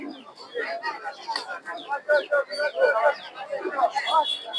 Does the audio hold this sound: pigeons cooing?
yes